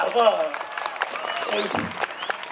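An audience at a poetry reading applauds in a steady patter of many hands, moderately loud and a little distant, with a voice speaking over the start.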